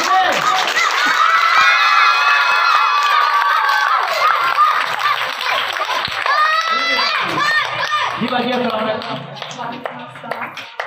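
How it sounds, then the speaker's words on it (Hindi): School audience at a magic show applauding and cheering with shouting children, loud and continuous throughout, fading slightly toward the end. "अब आपकी जोरदार तालियों में"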